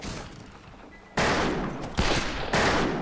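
Western-style gunfire from the game Fistful of Frags: loud, close shots burst in suddenly after a quieter stretch, then more reports crack out in quick succession and stay sharp and dense.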